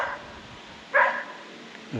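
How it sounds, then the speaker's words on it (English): A dog at a neighbouring farm in the Devon countryside gives one short, fairly loud bark from a little distance, followed by a fainter yelp, over quiet outdoor background. "dog in a neighbouring farm doesn't like me being here"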